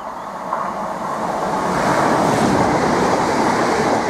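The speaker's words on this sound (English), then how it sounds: "here comes a Turbostar unit, en route to Peterborough, passing through Needham Market Station." Turbostar diesel train unit passing through Needham Market station: a broad, loud rushing rumble of wheels and engine that swells steadily over four seconds, near and continuous.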